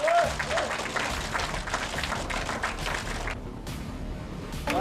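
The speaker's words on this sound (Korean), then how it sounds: "큰 박수로 함께해 주시기 바랍니다" Loud, sustained applause from a large crowd at a Korean political party meeting, steady clapping filling the whole stretch with a brief dip before swelling again.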